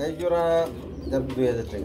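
Pigeons coo at a pigeon market where white Bombay pigeons are sold, their soft, throaty calls rising in short bursts close by, mixed with people talking over them.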